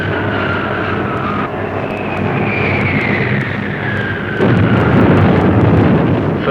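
Engines of WWII British bombers such as Lancasters, Halifaxes and Stirlings drone heavily in a loud, continuous roar, with a wavering pitch that shifts as the planes pass and swells louder near the end.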